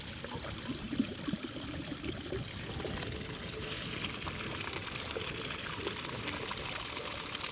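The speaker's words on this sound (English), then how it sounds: "Water is bursting out of the ground here" Muddy spring water bursting out of the ground on Agyasol Mountain in Kishtwar, a steady broadband rushing and gurgling flow, close and continuous with no pauses.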